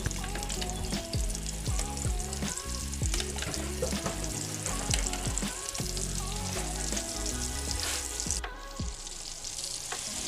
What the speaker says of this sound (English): a little bit of butter, or a knob as they say in the industry, some extra virgin olive oil, and we will begin to sear our meatballs.